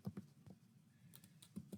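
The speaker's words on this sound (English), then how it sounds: "now I'm gonna type in else" Faint keystrokes on a computer keyboard, a few quick soft taps in a short burst, a pause, then more taps.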